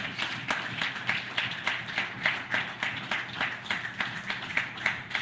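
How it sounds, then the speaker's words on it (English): An audience at a diaspora honor wall unveiling ceremony claps in a brisk, rhythmic burst, the individual hand claps fairly close and even throughout. "you should be able to give her a special round of applause."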